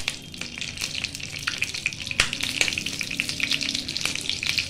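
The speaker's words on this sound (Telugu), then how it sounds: "ఇది కొంచెం చిట్పటన్న తర్వాత కొంచెం వేగిన తర్వాత" Whole spices crackle and sizzle in hot oil in a pan while cooking bagara rice, with irregular close pops and snaps over a continuous frying hiss and the scrape of stirring.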